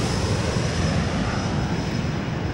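An airplane drones steadily overhead, a loud, continuous engine roar that holds through the whole stretch with no voices.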